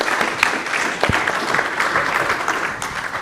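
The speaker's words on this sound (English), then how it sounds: "let's give them a round of applause" Applause from a conference audience after a panel session on AI in the aircraft cockpit, dense continuous clapping at a steady level with a few sharper individual claps standing out, no talking.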